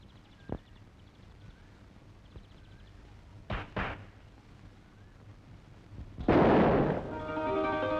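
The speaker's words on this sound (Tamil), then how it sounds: "ஏன்பா, பட்டாசு வெடிக்கணுமா?" Firecrackers go off in a few sharp pops and bangs at intervals, ending in a loud burst followed by a ringing tone; no one speaks.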